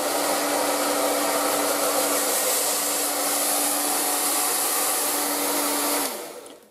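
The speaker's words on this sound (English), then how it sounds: "now let's put it on the cool down" An ETI Professional Turbodryer 2000 hairdryer runs on its cool setting with a loud, steady airy roar and fixed motor whine, then cuts off and winds down abruptly near the end.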